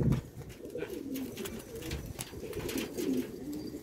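Pigeons coo in soft, repeated low calls close by, with light rustling and faint background noise between the calls.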